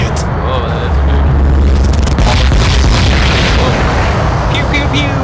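Gunfire in the Aliens vs Predator video game: a few heavy, booming shots burst loudly over a dense rumbling background, with a voice talking alongside.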